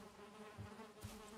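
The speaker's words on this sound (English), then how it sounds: "there's bees." Insects buzz faintly in Parallel, a quiet, steady drone with a short brighter burst near the end and no voices.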